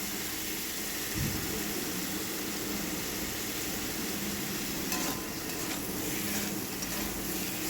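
Vegetables with cashew nuts and salt frying in a pan give a steady, even sizzling hiss throughout, with a few faint stirring knocks toward the end.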